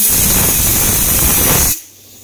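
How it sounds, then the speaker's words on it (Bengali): Pressure cooker cooking rice and lentils with potatoes, letting out a loud, close, steady hiss of steam that cuts off abruptly near the end. "এই যে প্রেসারে ভাত হচ্ছে চাল ডাল দিয়ে"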